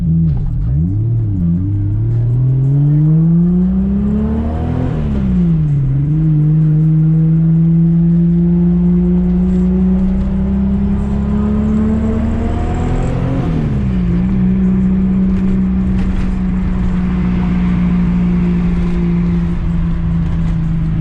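A loud modified exhaust on a 2JZ-engined car roars as it accelerates through gears, the engine note rising, dipping at shifts, then settling into a steady drone.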